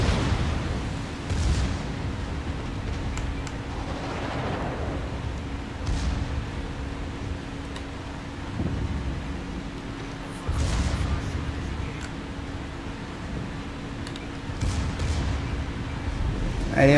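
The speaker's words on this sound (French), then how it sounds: "Il me sort en une bordée le Conqueror." A Conqueror battleship fires a broadside in World of Warships, heard as repeated deep booms and rumbling blasts over a steady background hum, spaced several seconds apart.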